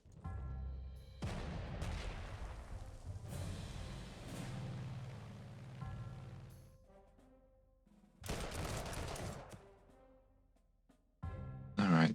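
Artillery fire in the strategy game Panzer Corps 2, several heavy booming bursts separated by quieter stretches, ending in a sharp loud blast.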